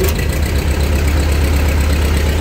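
Ford 8N tractor engine running at a steady idle, a loud, continuous low rumble with constant throttle and no voices over it.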